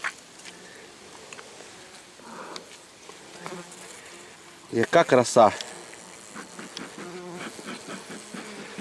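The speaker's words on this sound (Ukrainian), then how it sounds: "Бджола вся пішла. Бджола майже вся пішла вниз." Honeybees buzz steadily in the background around log hives during honey harvesting while a person speaks briefly, with a burst of louder clattering and knocking near the middle.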